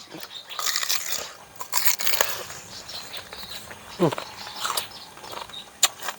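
Someone chews crunchy grilled crying-tiger beef up close, with irregular crisp bites and crunches. A person murmurs faintly between the mouthfuls.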